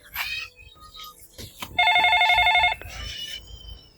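A telephone rings in one steady electronic burst lasting about a second, with faint voices and background noise before and after.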